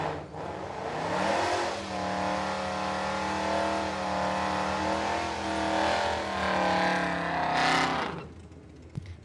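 An 1983 Ford Mustang drag racing down the strip at a raceway during bracket racing, its engine roaring steadily with climbing revs through gear shifts for several seconds before cutting off, loud and continuous.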